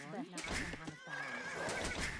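A horse whinnies in an Age of Empires-style strategy game, a loud, wavering neigh lasting about two seconds with faint hoof clip-clops mixed in.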